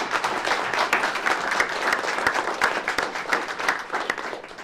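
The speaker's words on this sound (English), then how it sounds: "perhaps you could join me in a round of applause for all the speakers" An audience at a biomedical materials and bioelectronics research showcase gives a round of applause for the speakers, a steady dense patter of many hands clapping that carries on throughout without talk.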